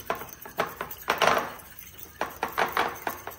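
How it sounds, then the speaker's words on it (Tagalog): Eggs being scrambled in a bowl, with a utensil clinking and scraping against the dish in quick, uneven bursts of close, sharp taps and brief pauses. "Scramble na po natin ang itlog."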